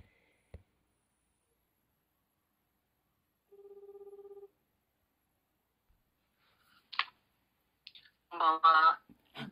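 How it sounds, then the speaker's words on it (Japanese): A telephone ring tone sounds once, a short steady buzzing burst while a call is being placed, followed by brief clicks and a voice answering at the end. "お電話をおかけしたいと思います。"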